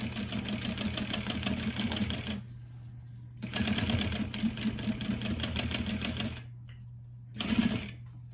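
A sewing machine runs in two long bursts of steady, rapid mechanical stitching as it sews a fabric pouch, with a brief pause between them and a short whirr near the end, close and clear.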